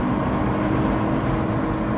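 Subaru flat-six car with a six-speed gearbox cruising in fourth gear gives a steady, dense engine and road drone heard from inside the cabin, even and unbroken, with no talk.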